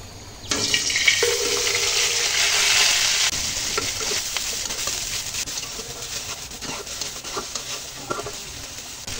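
Ginger, garlic, onion and turmeric powder hit hot oil left in the pan from cooking rui fish with pumpkin, bursting into a loud, close sizzle that settles into steady frying with light stirring.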